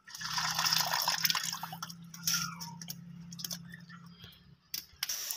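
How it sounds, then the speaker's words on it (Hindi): Rice is poured into a pot of biryani masala with water, giving close, wet pattering and trickling with clinks and splashes that come in bursts over a low steady hum, gradually thinning out. "इसके अंदर हमने चावल डाल दिए। ये हमने चावल इसके अंदर डाल दिए"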